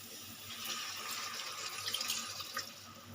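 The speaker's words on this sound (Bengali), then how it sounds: "পরিমাণ মতো জল দিয়ে দিলাম" Water poured into a pot of hilsa fish curry with taro, a steady rushing splash that stays fairly loud and continuous for about three seconds, with no talking.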